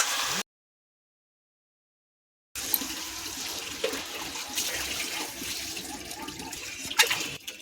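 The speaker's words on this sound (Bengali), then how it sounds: "করে কষে নিয়েছি, এবারে জল দেবো।" Water runs and splashes into a pan of taro, potato and shrimp curry, a steady close pour that follows a short silent gap and lasts several seconds.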